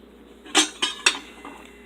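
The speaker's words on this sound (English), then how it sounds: "I'm actually gonna throw a lid on it." A pot lid set down on a pot during home cooking of a poached egg in an oriental hot pot, giving three or four close metallic clinks and clatters in quick succession in a quiet kitchen.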